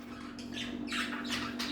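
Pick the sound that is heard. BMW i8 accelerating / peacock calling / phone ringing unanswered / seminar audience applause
peacock calling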